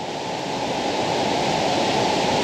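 A small waterfall pours into a river, a steady close rush of falling water that fills the whole stretch without a break.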